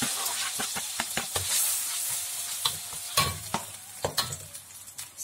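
Blended spice paste hitting plenty of hot cooking oil in a pan for jackfruit curry: a loud, continuous close sizzle broken by scraping stirs of a spatula, with no voices.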